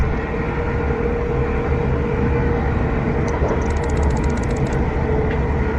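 Sleeper train rushing past near Wembley Yard in North London, a loud, steady rumbling roar with a brief higher rattle partway through, heard close from a fast-moving train.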